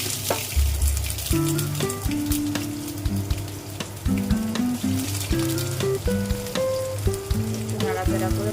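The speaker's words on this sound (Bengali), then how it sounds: "ভালো গরম হয়ে গেছে তেল সর্ষে ফোড়ন দিয়ে দিলাম কুচনো পেঁয়াজগুলো দিলাম" Steady crackling sizzle of chopped onions frying in hot mustard oil with mustard seeds, dense and close, with background music playing throughout.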